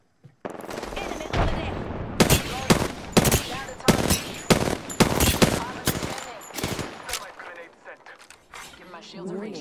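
Bursts of rapid automatic gunfire in an Apex Legends firefight, loud and close, with sharp repeated volleys over several seconds while game voice lines are heard.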